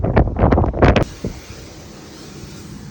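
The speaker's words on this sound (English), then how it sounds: "Let me get to a spot where it's not so flippin' windy." Strong wind buffets a microphone on the open deck of the Disney Destiny cruise ship, a loud rushing roar that cuts off abruptly, leaving a steady low hiss of wind and sea with a faint bump.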